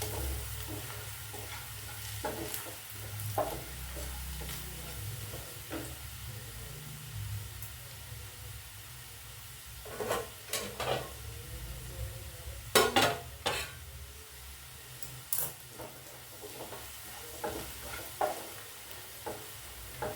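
Chili powder masala fries in a pan for a tomato prawn curry, with a steady soft sizzle and hiss under repeated scraping and knocking stir strokes that grow busier partway through, close up and with no speech.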